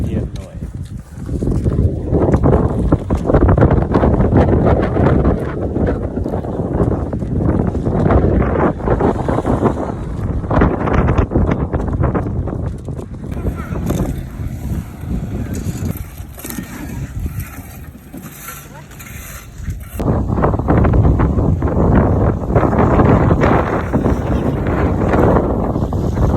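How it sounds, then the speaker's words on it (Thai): Powerful outdoor wind blasts continuously against the microphone, a loud, dense rushing roar that swells and eases over the whole stretch, with voices faintly beneath it. "ลมแรงขนาด"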